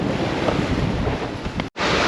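Wind rushing past a sailboat out on open water, a loud, steady broadband roar buffeting the microphone with the wash of waves beneath, broken by one brief dropout near the end.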